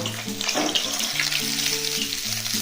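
Bhola fish pieces fry in hot oil with a steady crackling sizzle, with background music playing over it throughout.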